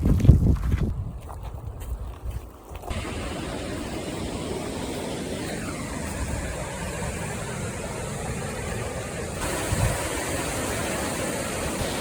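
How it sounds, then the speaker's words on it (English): A large waterfall in Patagonia makes a broad, even roar that fills the scene. A few seconds of brief scuffing and handling noise open the stretch, then the rush carries on steadily. "this is a very spectacular waterfall"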